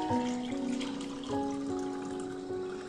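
A glass is filled with water from a steady pour, a continuous trickling rush with ringing tones that shift as the level rises, heard alone without talk.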